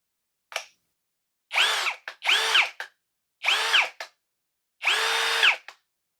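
A Tecepo 21V cordless drill runs in four short bursts, its motor whining up and down, each followed by a brief click-like noise as the trigger is released, close and clear with no talking.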